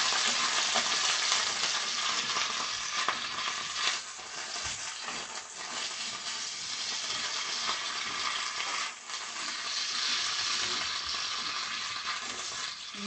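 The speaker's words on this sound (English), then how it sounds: "You definitely hear that butter and oil going on in there." Butter and oil crackle and sizzle steadily in a frying pan while chicken cooks for Malibu chicken, a continuous bright hiss at moderate level with occasional stirring shifts, no talking.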